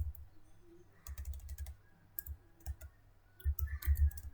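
Computer keyboard typing while setting up Java extensions in Visual Studio Code: bursts of close, crisp key clicks in uneven runs with short pauses, ending in a faster, louder flurry.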